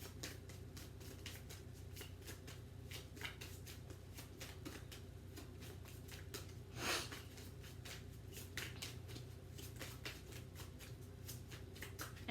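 A tarot card deck is shuffled at length, a quiet run of rapid, evenly spaced riffling snaps and flutters, close by with one slightly louder burst midway.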